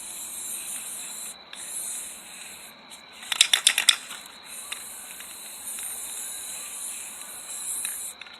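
White spray paint hisses from an aerosol can onto a princess pumpkin carriage craft in a few sustained bursts with brief pauses, close and steady, with a short rattling clatter partway through.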